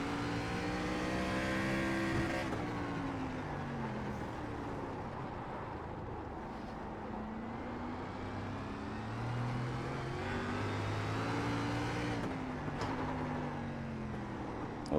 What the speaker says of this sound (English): Those downshifts like that ain't helping though.